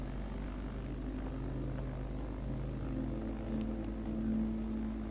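Large airplane in a Roblox flight simulator, a steady loud droning engine hum with low propeller-like tones throughout, holding near-constant level with slight tonal shifts, no voices.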